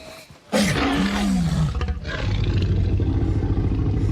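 A Tyrannosaurus rex gives a loud alert roar in a Jurassic Park scene, one sudden bellowing cry with a falling, drawn-out tone, followed by a rumbling, clattering background.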